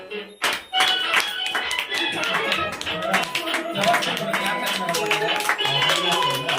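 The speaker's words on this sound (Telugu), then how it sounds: "క్లాప్స్ పడుతూనే ఉండాలా." People at an indoor birthday celebration clap in a dense, uneven patter of close hand claps and taps, with voices talking over it.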